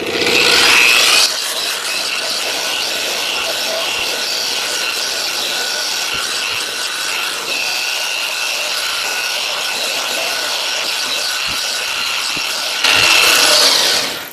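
A spinning DA-style disc sander with a 36-grit disc grinds across metal while building a bead roller, a loud continuous abrasive whir with steady scraping that spins up at the start and winds down near the end.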